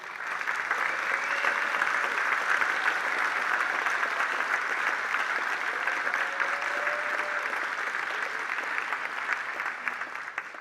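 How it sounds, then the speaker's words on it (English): Sustained applause from a large audience at a political rally, dense steady clapping held at an even level for about ten seconds with faint voices beneath. "I was going to say give yourselves a round of applause, and you did"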